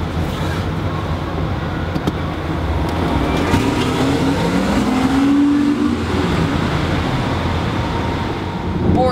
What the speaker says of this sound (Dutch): we gaan rijden met de nieuwe BMW i8